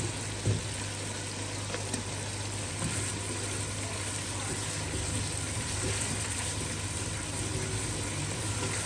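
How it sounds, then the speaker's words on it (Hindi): Garlic ginger paste fries in a pan over softened tomatoes, giving a steady, even sizzle that holds at moderate loudness under a low background hum. "पाँच मिनट तक हम इसको भून लेंगे, लहसुन अदरक के पेस्ट को।"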